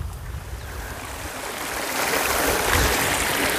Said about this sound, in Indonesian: Nah ini dia curug kirai, airnya juga sama karena musim kemarau, jadi airnya tidak terlalu besar.